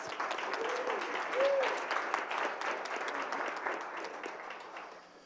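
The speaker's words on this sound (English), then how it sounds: "So a big round of applause to all the fans." A crowd applauds fans during a school recognition at a board of education meeting, a moderately distant wash of clapping that holds steady and fades slightly toward the end.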